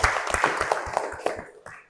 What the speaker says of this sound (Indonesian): Tepuk tangan untuk Badru.